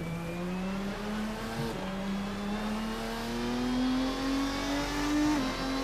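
A race car engine in Assetto Corsa revs hard and climbs steadily in pitch, with one brief dip like a gear change, loud and close throughout with no talking.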